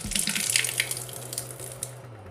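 Water runs from a household tap just after the valve is turned on during a home tap-leakage repair; a close, bright splashing gush that is loud at first and then tapers off.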